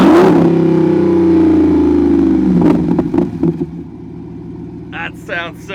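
Jeep Wrangler 392 with a MagnaFlow aftermarket exhaust, revving in a loud, deep roar that drops to a burbling idle with crackles, followed by a few brief spoken words near the end.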